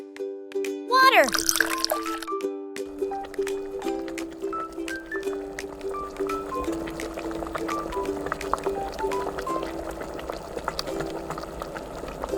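Water is poured and bubbles for Buldak noodles in a cartoon-style cooking scene. A brief gush is followed by steady simmering, with tonal musical notes playing over it.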